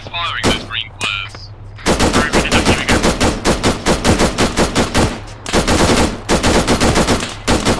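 Rapid automatic gunfire in Arma 3, dense steady bursts of close, loud shots nearly filling the stretch after a few isolated cracks at the start.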